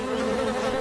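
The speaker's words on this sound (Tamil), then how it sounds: "தேனீக்கள் பறக்கிறத பார்த்தா பக்கத்துலதான் எங்கேயோ தேன் கூடு இருக்கணும்னு நினைக்கிறேன்." Bees buzz steadily in flight nearby, a continuous close droning hum with no pauses and no talking.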